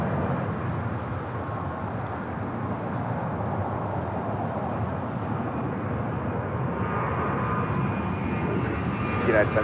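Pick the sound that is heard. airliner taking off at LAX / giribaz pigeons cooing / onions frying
airliner taking off at LAX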